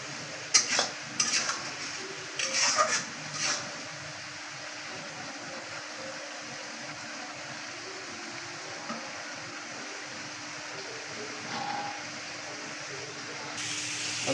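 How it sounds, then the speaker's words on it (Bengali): Meat fries in oil in a cooking pot with a soft continuous sizzle, broken by a few sharp clinks of a utensil against the pot early on, then a steady quiet hiss. "আসলে তেলে একটু গোশটা ভেজে নিলে গোশটা সিদ্ধ হয়ে যাবে।"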